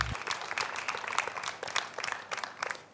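An audience at a televised singing competition gala applauds a singer on stage, a dense patter of many hands clapping that stays fairly even and somewhat distant for the whole stretch.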